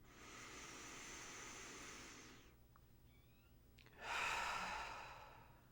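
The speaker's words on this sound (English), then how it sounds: "take 3 nice deep breaths with me" Slow, deep breaths during a guided meditation: a long soft exhale, a quiet pause, then a deeper breathy inhale, close and gentle in a very quiet room.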